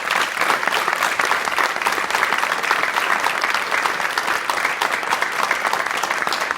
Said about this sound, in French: je voudrais qu'on les applaudisse